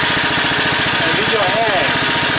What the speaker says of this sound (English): Now we are in a low RPM, okay? In a low idle.